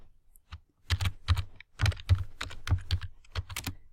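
Typing on a computer keyboard while entering weekday names into a spreadsheet table: a close, clear run of crisp keystrokes, starting slowly and then quickening into uneven bursts, with no talk over them.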